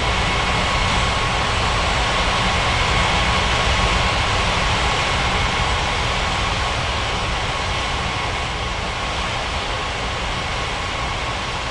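Airliner landing at an airport in an air traffic control game, a steady loud broadband jet roar with a faint high whine, continuous and even throughout with no voices.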